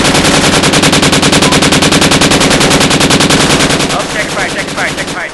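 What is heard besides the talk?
gunfire in video game Project Reality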